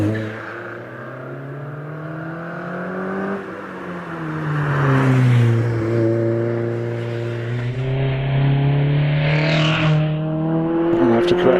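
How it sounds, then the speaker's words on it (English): A Mazda MX-5 climbs the Prescott hillclimb course, its engine note rising and falling through gear changes as it accelerates, loud and fairly near, with a commentator's voice faintly underneath. "Jim Hood also making his way in the Mazda MX-5"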